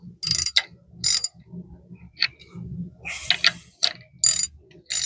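Ratchet clicks in short bursts while a brake caliper is tightened down on a tow truck, with several rapid crisp clatters separated by brief pauses, close and fairly loud.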